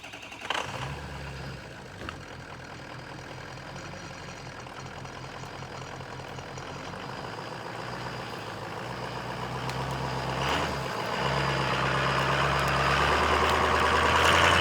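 A 2003 Ford F250 with the 6.0 diesel runs at a steady, rumbling idle while being moved a short distance, the drone slowly growing louder and fuller toward the end, with no talking.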